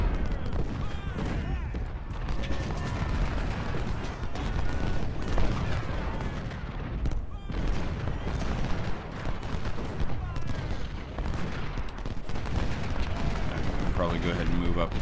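Artillery fire in the Civil War strategy game Ultimate General: Civil War, set at the Battle of Prairie Grove: dense, continuous rumbling booms and crackling volleys fill the whole stretch without a break, with game music faintly underneath.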